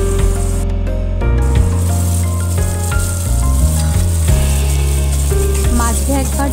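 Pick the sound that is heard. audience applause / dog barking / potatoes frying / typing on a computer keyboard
potatoes frying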